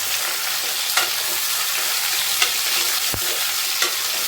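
Vegetables for sukto fry in a pan over a high gas flame with a dense, continuous sizzle. Several sharp spatula scrapes and knocks punctuate the sizzle at irregular intervals, with no speech.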